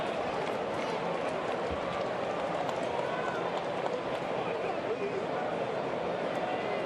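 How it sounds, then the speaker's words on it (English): Rain falls over a baseball stadium during a Chicago Cubs at Detroit game, a steady, dense hiss filling the whole stretch beneath a commentator's voice. "You can see the rain starting to fall."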